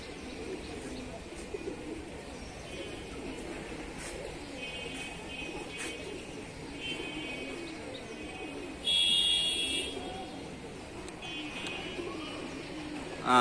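Pigeons coo and birds chirp softly in the distance over a quiet outdoor background as female pigeons are flown, with a brief electronic tone partway through.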